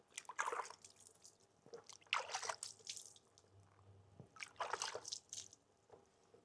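Water poured and run over the painted surface of a Yamaha R 125 motorcycle part, giving several short splashing, dripping bursts separated by quieter gaps, close by.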